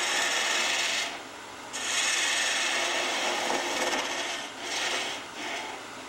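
Wood spindle turning on a lathe running at about 1200 RPM, a steady broadband rasping and rubbing of the tool against the spinning wood, close and continuous with brief dips where the cut eases.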